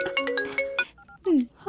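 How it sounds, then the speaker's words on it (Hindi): A mobile phone rings with an incoming call: short tonal chime notes, then a rising synthetic tone, following a voice speaking. "उसका फोन आ रहा है।"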